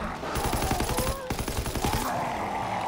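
Rapid bursts of gunfire in Call of Duty WWII Zombies on the Groesten Haus map, loud and close, firing in quick volleys across the whole stretch with a brief pause partway through.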